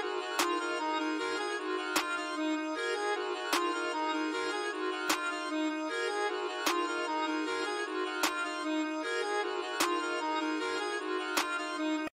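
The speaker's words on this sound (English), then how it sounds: "So I put in a pretty basic snare pattern." Sparse programmed beat in FL Studio: a basic snare hitting on a steady, evenly spaced pulse over a sustained melody, clear and moderately quiet.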